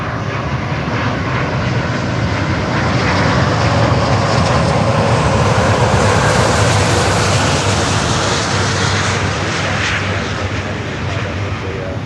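A Qatar Airways jet airliner on inbound approach roars loudly overhead, a continuous broadband engine rumble and whine that swells in the middle and eases slightly toward the end.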